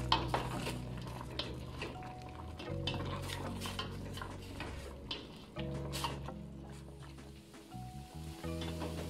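Chicken pieces simmering and frying in their own fat in a pot, stirred with a metal utensil, giving repeated scraping and clinking against the pot over a soft bubbling background.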